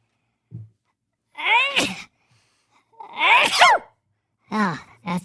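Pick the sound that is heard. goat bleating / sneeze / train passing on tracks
sneeze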